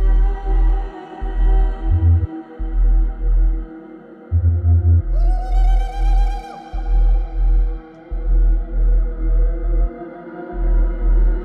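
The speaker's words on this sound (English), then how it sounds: "So the bass and the vocals together sound like this." Drum and bass production with two layered basses, a deep sub and a wobbling bass, under processed vocals, playing a heavy, pulsing pattern with short gaps and a rising swept texture midway, loud and continuous without talk.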